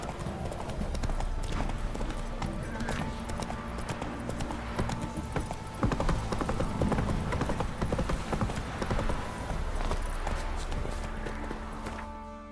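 Horse hooves clip-clop in a steady galloping rhythm in the video game Witcher 3, loud and close with continuous tack and ground noise alongside.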